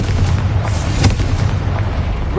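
Confringo blasting spell going off in Hogwarts Legacy, a deep booming explosion with a sharp burst near the middle over a rumbling low background, loud and close with no talk.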